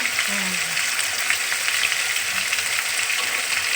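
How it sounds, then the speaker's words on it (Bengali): Steady sizzling and crackling of paneer frying in a hot pan, close by and continuous, with faint clinks. "পনির ভাজা চলছে"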